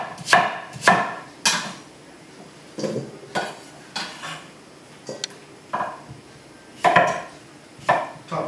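A knife chops sweet potatoes on a cutting board with sharp, irregular clacks against the board, about a dozen close, crisp cuts separated by short pauses, no talking.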